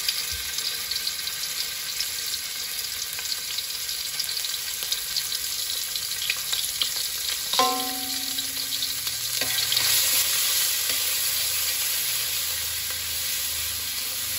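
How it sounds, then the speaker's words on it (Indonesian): Spices sizzle and crackle in hot oil in a pan, a steady close frying hiss with occasional stirring clatter and no voices. "Jadi mak sekarang goreng bumbu"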